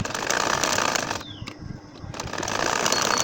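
A sewing machine stitches a nakshi kantha baby quilt, its rapid, loud mechanical whirr running continuously except for a brief pause near the middle.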